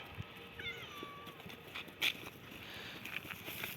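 A few faint, thin meows from cats sound in the background over scattered rustling and light pattering, with a brief louder burst midway.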